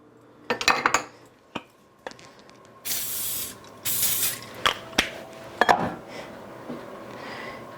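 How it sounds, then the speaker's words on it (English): A few bursts of aerosol cooking spray hiss, one long and steady, mixed with clinks and clatter of utensils and cookware close by. "Get a little bit of spray."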